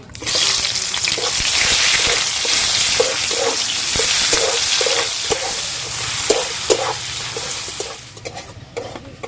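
Steady, loud sizzling of chopped onions frying in mustard oil, with rhythmic scraping as they are stirred in the pan.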